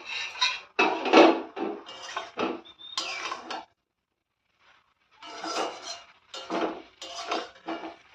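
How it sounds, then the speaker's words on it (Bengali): A lid comes off a cooking pot of small prawns and amaranth greens, with close bursts of metallic clanking and scraping, a silent pause, then more rattling clatter. "এবার চাপাটা খুলে দেখবো।"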